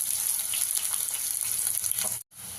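Thinly sliced onions and green chillies frying in a pan, a steady close hiss and crackle that drops out briefly near the end before resuming.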